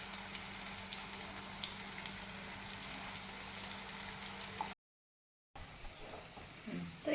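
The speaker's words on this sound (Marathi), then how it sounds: "तर आपण आता हे दुसऱ्या साईडला सुद्धा भाजायला ठेवले." A corn cutlet fries on its second side in a pan, giving a soft, steady sizzle close by. The sizzle cuts out briefly near the end, then returns.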